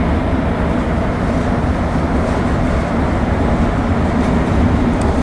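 Montreal Metro AZUR train riding along the Orange Line, a steady loud broadband rumble of rolling wheels and motors with no pauses, heard from inside the car.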